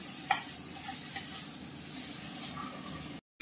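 Onion, garlic and green chilli frying in fish oil in a pan for a Bengali parshe fish curry, a steady close sizzle with a few sharp crackles and spits over it, cutting off abruptly at the end.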